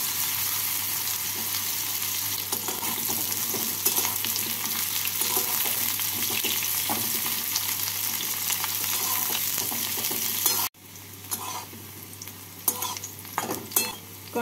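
Bitter gourd pieces frying in oil, a continuous bright sizzle with occasional stirring clatter, dropping abruptly near the end to a quieter, patchier crackle.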